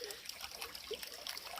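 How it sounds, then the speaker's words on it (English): Stream water trickling beside a hiking campsite on the Virginia Appalachian Trail, a steady close splashing babble running continuously at a soft level with no talk. "We're by the stream, grabbing some water."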